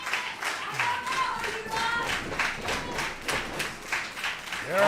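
A wrestling crowd claps in steady rhythm at a live independent show. The quick, even claps continue throughout at moderate volume, with faint voices and crowd murmur beneath.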